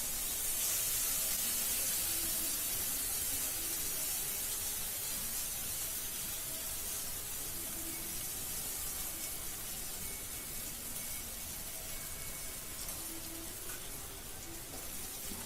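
Ground sour greens (pulicha keerai) for a thokku hit hot oil seasoned with asafoetida, producing a loud, broad sizzling hiss that starts strong and slowly settles into a steady, slightly softer fry.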